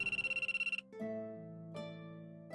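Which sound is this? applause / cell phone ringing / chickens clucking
cell phone ringing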